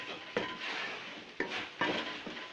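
Metal utensils scrape and clink against a pan while little watermelon (kalak) bhurta, cooked in ghee, is stirred and served out, with several sharp knocks over a steady scraping bed, close and moderately loud.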